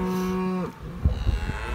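A cow moos once, loud and close, a long sustained low call that cuts off and gives way to shuffling livestock and handling noises during a cattle move into a corral.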